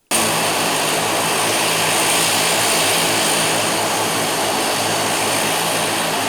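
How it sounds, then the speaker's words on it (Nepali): A Buddha Air ATR 42 turboprop airliner landing after its final mountain flight, a loud, steady broadband engine and propeller roar that starts abruptly and holds throughout. "ATR विमानस्थलमा अन्तिम उडान भरेर ल्यान्ड गर्दै थियो।"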